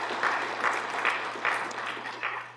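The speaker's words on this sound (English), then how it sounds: "Please let us give a clap to all startups and innovators" Audience applause for startups and innovators at an innovation week event, a steady wash of clapping from a crowd that swells in repeated waves and fills the room for the whole stretch.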